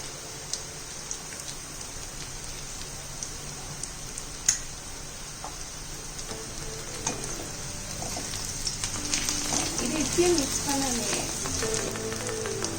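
Onions sizzle and fry steadily in a pan for mushroom masala, a continuous crackling hiss with small pops throughout, growing slightly busier toward the end with faint background sounds.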